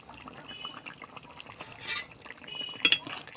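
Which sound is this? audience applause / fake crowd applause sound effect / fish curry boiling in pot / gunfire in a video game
fish curry boiling in pot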